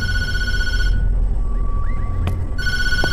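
Telephone ringing in the Tattletail horror game, a steady electronic ring tone heard over a low ambient hum that cuts out for a moment and then resumes.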